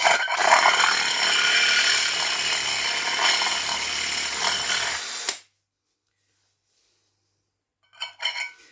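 A power drill grinding inside a hole to clean it out, a loud, steady whirring rasp for about five seconds, then silence followed by a brief scrape.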